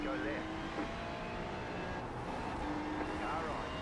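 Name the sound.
car driving past, from a video game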